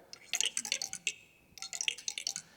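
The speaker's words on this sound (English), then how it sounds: "let me stroke the nails with a chopstick" Rapid scraping and clicking as a chopstick is rubbed across metal nails, two bursts of bright rattling strokes with a short pause between.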